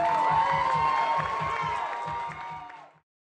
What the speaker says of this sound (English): Let's have a nice round of applause for our newlyweds, the new Mr. and Mrs. Max and Heather Diorio